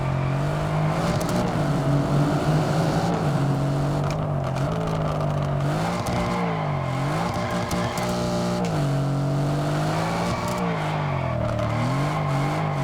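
Engine drone and exhaust note of a car in the racing game Test Drive Unlimited Solar Crown: a loud, continuous, steady tone with a few rising and falling rev swells, close and alone, without voices.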